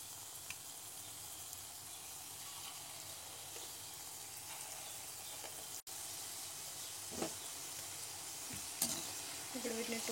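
Egg bajjis frying in hot oil give a steady, fairly quiet sizzle that runs through the whole span, with a few faint clinks and stirring touches near the end and no talk.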